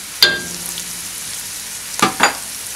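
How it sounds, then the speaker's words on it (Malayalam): Chopped onion hits hot oil for mutton biryani, setting off a steady close sizzle broken by a few sharp bursts as the pieces land and get stirred. "ചൂടായി വരുമ്പോഴത്തേക്ക് ഈ ഉള്ളി അരിഞ്ഞു വെച്ചിരിക്കുന്നതായിട്ടുള്ള ഉള്ളി ഇതിലേക്ക് ഇടുകയാണ്."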